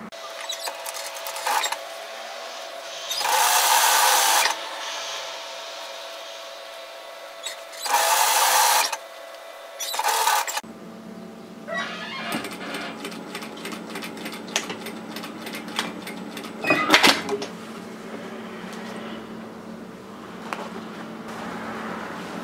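A sewing machine stitches the side seam of a mini Boston bag in bursts, first a few loud sustained runs separated by pauses, then a lower steady hum with rapid ticking needle strokes, close up.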